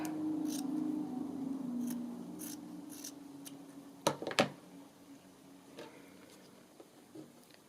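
Scissors snipping the edge off a strip of paper for a snippet roll, two or three crisp close cuts in quick succession over a faint steady hum, with a light tap afterward.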